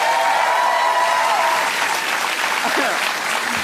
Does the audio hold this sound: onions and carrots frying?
no